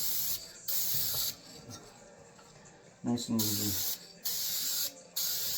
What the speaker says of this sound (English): I'm going to spray right in the corner there, so I know where my spray is.